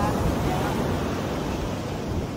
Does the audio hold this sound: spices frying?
no